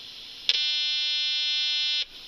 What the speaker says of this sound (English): if I touch C9 here, I'm going to start oscillating and it'll be loud